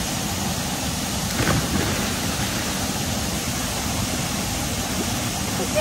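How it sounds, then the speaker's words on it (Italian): A mountain waterfall rushes in a loud, unbroken broadband roar that fills the whole stretch and buries a faint voice. "non si sentirà nulla perché c'è la cascata"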